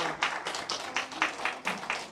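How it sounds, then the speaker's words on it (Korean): A children's worship group applauds a returning child with a short burst of clapping from a small gathering, uneven patters rising and falling over two seconds, close by in a room. "박수 한번 쳐주세요"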